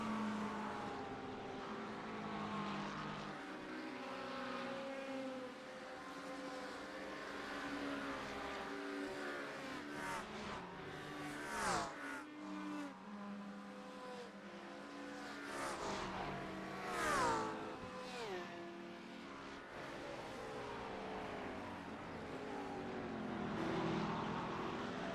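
GT3 race cars, among them a Lamborghini, roar around the circuit in a sim-racing championship, with engine notes rising and falling steadily through gear changes and several sharp revving sweeps, with no talk.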